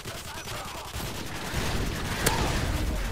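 Sustained automatic gunfire in Call of Duty Modern Warfare 2, bullets punching through walls; a dense rattling burst that grows louder midway, with a sharp crack near the end.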